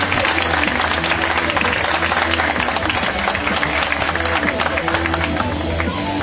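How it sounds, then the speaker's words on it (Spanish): Audience at a talk on spells and mysteries applauding, a dense steady wash of clapping that stays loud and even throughout, with crowd murmur mixed in. "un aplauso por favor"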